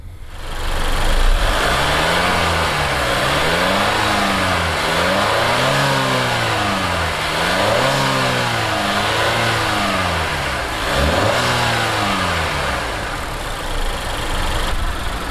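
A 2020 Acura RDX A-Spec SH-AWD engine revved repeatedly while parked, rising and falling in about six steady swells over a low idle, loud and close.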